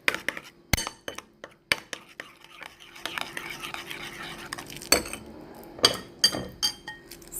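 Powdered sugar being stirred into a fruit mixture, with a spoon or utensil repeatedly clinking against a glass or ceramic bowl in sharp, irregular taps over soft scraping, close and fairly quiet.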